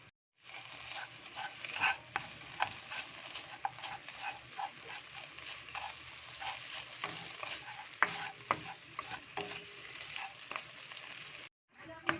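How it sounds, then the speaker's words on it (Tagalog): Ingredients frying in a pan for a sotanghon and pancit canton dish, a steady sizzle with scattered crackles and occasional stirring clinks, continuous and fairly close, no talking. "Isangag muna natin"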